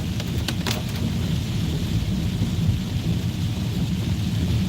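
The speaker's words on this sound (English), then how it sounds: "man, look at this rain." Steady heavy rain pouring down outdoors, a dense continuous hiss with low rumbling wash throughout, no pauses, loud and close.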